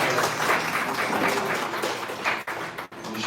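Guests at a commemorative ceremony with an art exhibition in Goiás, Brazil, give a round of applause, a thick, continuous clatter of many hands that breaks briefly near the end.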